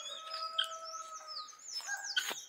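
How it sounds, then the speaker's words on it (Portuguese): Small birds chirp near a fruit-laden jabuticaba tree, a close, clear sequence of high tweets and short whistled trills with quiet background. "Som dos passarinhos."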